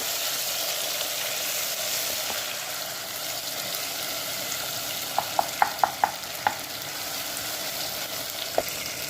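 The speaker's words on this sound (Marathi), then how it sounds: "आता टमाटरला पण चांगलं होऊ द्यायचं" Tomatoes frying in a pan, a steady close sizzle throughout with a few sharp taps of a spoon against the pan partway through, no talking.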